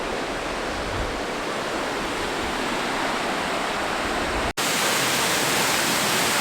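Loud, steady rush of the Soca River in Triglav National Park, Slovenia, a dense broadband roar of flowing water with a brief cut near the end.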